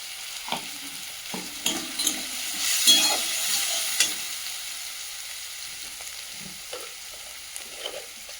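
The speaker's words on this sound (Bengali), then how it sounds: "মশলাটা ভালো করে কষিয়ে দেবো।" Whole spices such as cardamom, cloves and cinnamon sticks with turmeric powder fry in hot oil in a pan for a meat curry, a soft steady sizzle broken by repeated scraping stirs of a spoon, close and alone.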